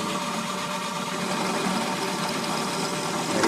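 An engine runs steadily at about 1100 RPM, a close, loud, even drone with a fine mechanical patter and no change in pitch across the short stretch, with no talk over it.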